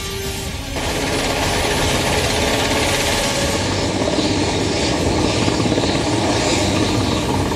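A helicopter flies over a New Zealand coast damaged by an earthquake, its rotor and engine roaring loud and steady throughout, close and continuous, with no talk.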